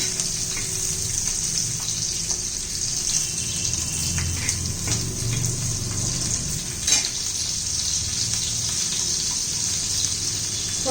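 Four mild green chillies sauté in a pan for green tomato chutney, giving a steady, close sizzle and crackle that runs unbroken from start to finish with no voices.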